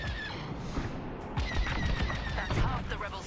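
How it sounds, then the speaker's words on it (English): Blaster gunfire in Star Wars Squadrons as an Imperial pilot shoots at X-Wings in space combat, rapid repeated bursts of shots over engine rumble and game effects, steady and loud throughout. "Yes, we are shooting X-Wings."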